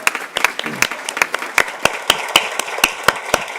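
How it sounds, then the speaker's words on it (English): Audience at a school board meeting applauding a school principal, a steady patter of sharp, fairly close individual claps from a modest crowd, with faint voices murmuring underneath. "And let's give her a round of applause."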